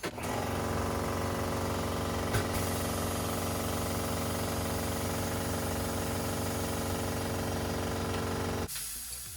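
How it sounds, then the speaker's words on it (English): A Mayflower tire changer machine spreading its jaws for a Miata wheel gives a loud, steady mechanical drone with a pulsing motor chatter, running nearly the whole time before cutting off abruptly near the end. "we're gonna go ahead and spread out the jaws"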